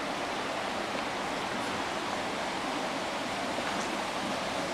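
A clear mountain stream flows in a steady, full rush of water, close and continuous with no pauses and no voices over it.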